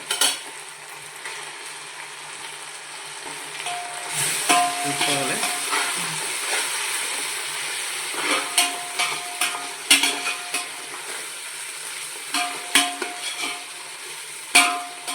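Ginger garlic paste frying in a pan for prawn biryani, a loud close sizzle with repeated spoon scrapes and clanks against the metal pan throughout.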